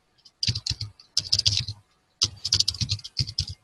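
Typing on a computer keyboard while launching an exploit in Kali Linux, three quick bursts of close, crisp key clicks separated by short pauses, with no talk.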